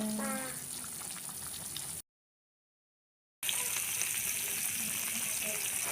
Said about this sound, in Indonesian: Sudah mendidih, ini sepertinya sebentar lagi matang ya teman-teman.